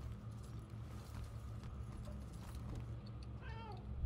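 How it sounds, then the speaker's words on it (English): A cat meows in the game Murdered: Soul Suspect, a few short rising and falling cries near the end over a steady low ambient hum. "cat, get out of here"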